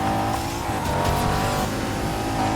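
Honda NSX racing a LaFerrari in Need for Speed Heat, a dense high-revving engine drone with layered motor tones and faint tire noise, continuous and close, no speech.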